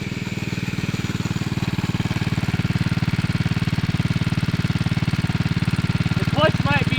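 A 1970 Fox Condor mini bike with a small Tecumseh-type engine being ridden on a road, a steady rapid putter close by throughout, with a person talking briefly near the end.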